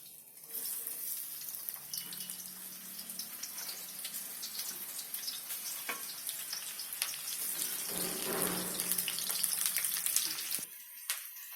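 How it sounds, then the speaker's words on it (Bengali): Sliced onions hit a hot kadai and hiss in a dense, rain-like sizzle that builds slightly before cutting off near the end. "তো এবার আমি কড়াই দেবো, আগে পেঁয়াজটা দিয়ে দিই।"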